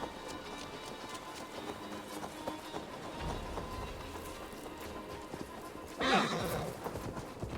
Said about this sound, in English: back to the horses and then off to wherever it is we're going.